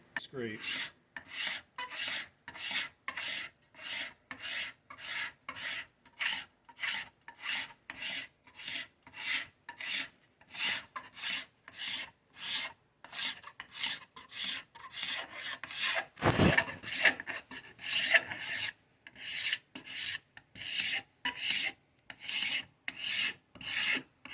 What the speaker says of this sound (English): I like to count how many scrapes I do.